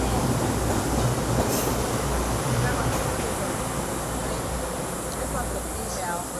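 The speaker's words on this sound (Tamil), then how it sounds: "ஆமாம் மேம், ட்ரெயின் வேறு வருது." A train rolls past close by near Shifen Waterfall in Taiwan, giving a loud, steady rumble and clatter of wheels on rails that fades slightly toward the end.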